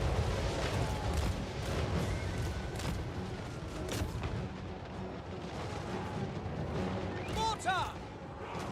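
Mortar and artillery fire rumbles through a Warhammer video game battle, a dense, continuous roar of booms and blasts with several louder hits rising out of the mix.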